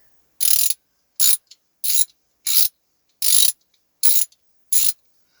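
A ratchet wrench clicks in seven short bursts of rapid pawl ratcheting, close and crisp with silent gaps between each turn.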